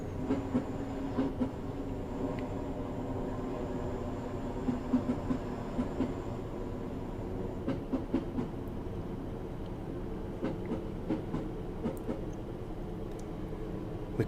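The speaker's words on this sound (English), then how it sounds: "I'm going to idle the power and just allow the train to coast" A Class 150/2 diesel multiple unit in Train Simulator 2018 coasts at about 25 mph with power idled, giving a steady low rumble with regular clickety-clack of wheels over rail joints throughout.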